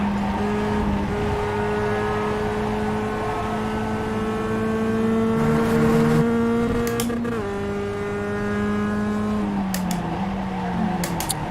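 Race cars on a track, including one with a Steve McQueen lightning-bolt paint job, their engines droning loud and close with steady high revs that shift through gear changes, a brief passing surge around the middle, no voices heard.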